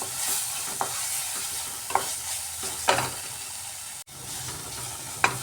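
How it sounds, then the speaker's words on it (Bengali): Masala sautés in a pan with Kashmiri red chilli powder for egg tikka masala, a soft steady sizzle punctuated by a few sharp spatula scrapes. "কাশ্মীরি লাল লঙ্কাটা দিয়েও কষিয়ে নিচ্ছি ভালো করে"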